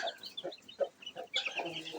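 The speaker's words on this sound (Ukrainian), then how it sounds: "Квочечка Почечка з курчатами є на місці." A broody hen clucks softly in short, irregular bursts, joined by faint high peeping from her chicks, fairly quiet and close.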